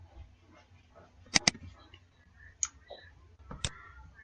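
Computer mouse clicks during software work, two quick sharp clicks close together, then a lone click a moment later, close and crisp over a quiet room.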